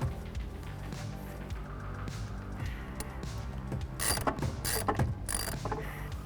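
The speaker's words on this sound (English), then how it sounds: "grab a 10mm socket, just reach in there, and we'll get these loosened and removed" A 10mm socket ratchet loosening the steering wheel bolts inside a Jeep JK, with rapid clicking pawl bursts near the end over a busy mechanical rattle and handling noise, close and moderately loud.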